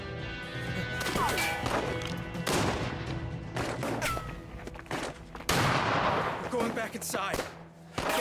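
Sniper rifle gunfire in the video game As Dusk Falls, several sharp cracks and heavy impacts scattered among crashes and chaotic noise, with raised voices faintly underneath.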